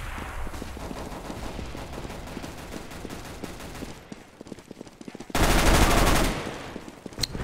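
Rapid gunfire from the CS:GO video game rattles in quick bursts throughout, with a sharp, louder burst of shots near the end and faint voices in the background.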